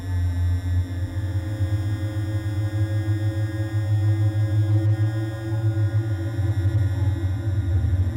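An ArcSyn synthesizer holds a sustained tone processed with reverb, damper and decay effects, giving a steady drone with a slightly pulsing low end that plays alone.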